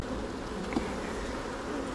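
Honey bees buzzing around a hive, a continuous close swarm drone with no talk.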